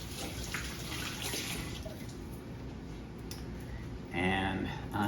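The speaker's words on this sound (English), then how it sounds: "I'm gonna rinse my hands." Running water from a tap splashes over hands being rinsed in a kitchen sink, a steady wash that swells louder near the end.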